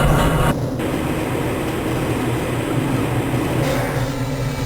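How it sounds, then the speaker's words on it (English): A Half-Life: Blue Shift tram ride carries a steady low rumble and rail hum, loud and constant with a brief clunk near the start. "This train is inbound from the Area 8 topside dormitories to the Central Transit Hub in Area 9."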